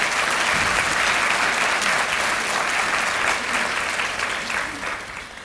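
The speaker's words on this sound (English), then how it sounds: "Please give those folks a round of applause." A round of applause from the audience at a United Way annual meeting, a loud dense wash of clapping that holds steady for several seconds, then fades toward the end.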